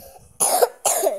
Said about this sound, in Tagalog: Inuubo ako kasi may sakit ako guys